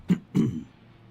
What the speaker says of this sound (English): I have to keep clearing my throat